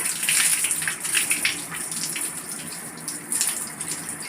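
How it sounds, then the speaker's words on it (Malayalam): Water scooped and poured over a head to rinse fenugreek hair pack out of hair, a steady close splashing gush with brief louder surges, no voices. "വെള്ളം നല്ലോണം കോരി ഒഴിച്ച് കഴുകണം"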